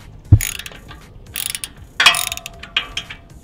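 Close ratchet wrench clicks while loosening bolts on a Harley-Davidson Night Train, heard as a few short bursts of clicking with a heavy knock near the start.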